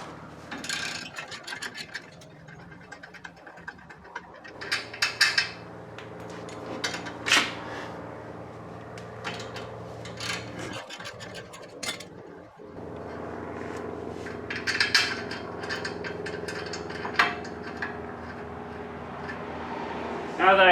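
A ratchet works on the 17mm caliper bracket bolts of a 1991 Toyota Pickup. Bursts of clicking, clattering tool and metal handling come up close, with someone talking at times between them.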